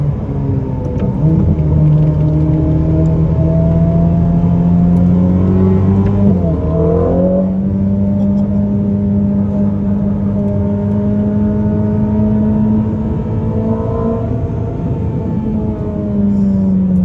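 A Ferrari SF90 Stradale hybrid supercar of about 1000 hp at Portimão race track, its engine droning loud and close with pitch climbing through gears, a dip and shift around the middle, then a sustained high-revving run.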